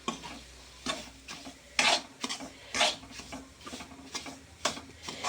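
Semolina for jaggery rava laddu being stirred and dry-roasted in ghee, with repeated scraping strokes of a spoon against the pan over a soft, low sizzle, close and fairly quiet, no talk.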